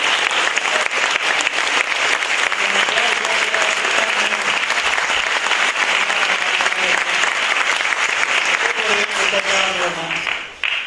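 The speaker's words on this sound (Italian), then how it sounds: "ma vi chiederei di fare un applauso anche al nostro tastierista" An audience at a music concert gives sustained, dense applause for the performers and their keyboardist, a steady wash of many hands clapping that holds at full strength for about ten seconds before cutting off abruptly.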